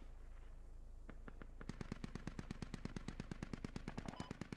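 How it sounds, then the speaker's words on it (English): Rapid automatic gunfire from a video game, a few separate shots followed by a sustained, evenly spaced burst of loud, sharp reports with no talking over it. "Gun sounds are a little different."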